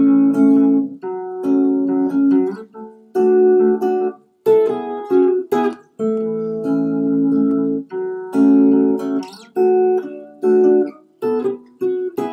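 Clear guitar chords strummed slowly one after another, each ringing briefly before the next, close and alone.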